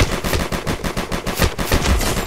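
Rapid automatic gunfire from the mobile shooter Vice Online during a competitive deathmatch, dense bursts of shots hammering continuously at close range with no pauses.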